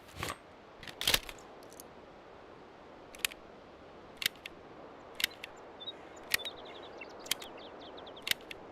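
Weapon reload in Escape from Tarkov: a string of sharp metallic clicks and clacks, two quick ones close together near the start, then single snaps spaced about a second apart, crisp and close.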